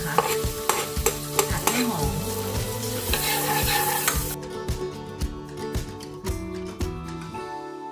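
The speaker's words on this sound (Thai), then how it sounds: "แล้วก็จะเอาหอมแขกนะคะสับลงไปผัด" Chopped onion stir-fried in a pan sizzles loudly under rhythmic scraping and tapping of a utensil against the pan, with the frying hiss easing partway through and stirring continuing close up.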